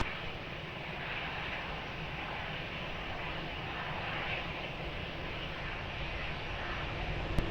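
Fixed-wing airplane taking off from runway 20 at Lisbon Airport, a continuous broad jet engine roar that holds steady and loud throughout, with no voices over it.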